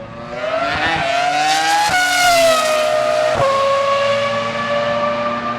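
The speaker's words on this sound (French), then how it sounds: "j'aime bien les Renault, les Formule 1 d'époque qui avaient le V10" A screaming high-revving Renault V10 Formula 1 engine howls continuously, its pitch climbing and dropping through quick gear shifts, loud and close.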